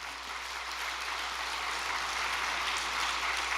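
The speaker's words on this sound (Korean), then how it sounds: "우리 효정 참가장 상담센터 안수팀께 박수 한번 보내주시기 바랍니다" An assembled audience at a gathering claps in a dense, sustained round of applause that stays steady throughout, with no voices over it.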